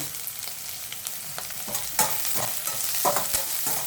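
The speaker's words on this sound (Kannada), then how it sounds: "ಇದನ್ನೀಗ ಸ್ವಲ್ಪ ಚೆನ್ನಾಗಿ ಫ್ರೈ ಮಾಡ್ಕೊಳ್ಳೋಣ." Chopped onion and curry leaves fry quietly in oil for an ivy gourd palya, a soft sizzle punctuated by repeated spatula scrapes and taps against the pan.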